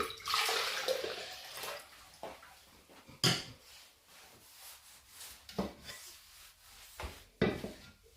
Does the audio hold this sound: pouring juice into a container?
yes